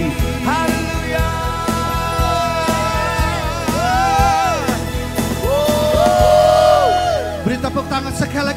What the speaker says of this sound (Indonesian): Berapa banyak sekali lagi beri tepuk tangan, sorakan haleluya